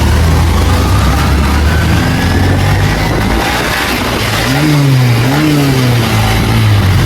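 A Bajaj Pulsar motorcycle engine drones loud and close during a bike race, holding a steady roar with rising and falling revs in the second half.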